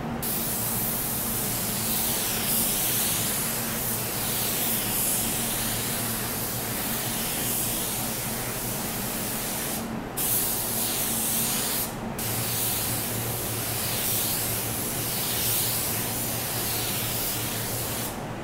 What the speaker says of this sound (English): You saw how we sprayed it as if it was never there.